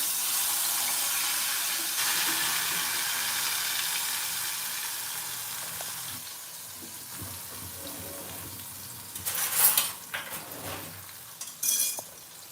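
Kantola (spiny gourd) sizzles in a hot asafoetida tempering with a broad hissing fry that slowly fades, followed by a few close clinks and scrapes of a utensil in the pan.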